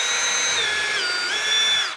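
A cordless drill whines steadily while driving a screw, a close, loud, continuous motor tone with slight pitch shifts, stopping abruptly at the end.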